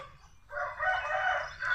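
A rooster crows once in a long drawn-out call, fairly near and clear over a quiet rural background with faint low rumble, the final note trailing off and rising again briefly.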